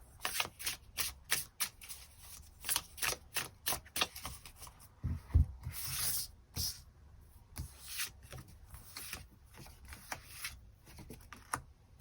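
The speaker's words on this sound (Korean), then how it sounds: "새로운 인연의 등장 가능성이 있는가 그 부분 추가 카드 뽑아보도록 하겠습니다." Tarot cards being shuffled and handled to draw an extra card, a quiet run of crisp riffling and snapping card sounds in an irregular rhythm, close and soft, with no talking.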